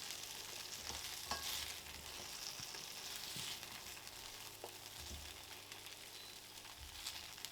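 Continuous sizzling and crackling of chicken frying in hot oil in a wok, with occasional scraping stirs, steady and fairly quiet throughout.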